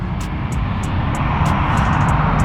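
Airplane engine noise right next to an airport, a steady loud low roar filling the whole clip, with faint repeated high ticking above it and no talking.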